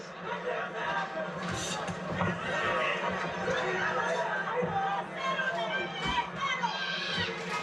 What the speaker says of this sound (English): As you can hear this massive crowd in Tokyo trying to rally support for their hero.